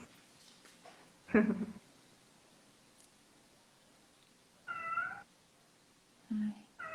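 A kitten meows indoors in three separate, fairly close calls spaced a couple of seconds apart, against a quiet background.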